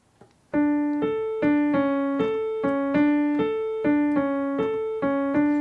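A piano plays a repeated right-hand pattern of evenly spaced notes after a brief pause, a clear steady rhythm of struck chords, an easy accompaniment of a song.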